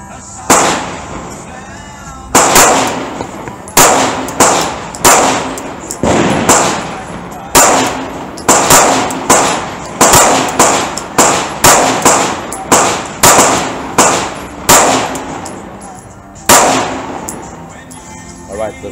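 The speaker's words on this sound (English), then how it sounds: "I'm gonna shoot again." A SAR9 pistol fires a string of about twenty loud, sharp shots, close by, in an uneven rhythm with short gaps between groups and a longer pause near the end.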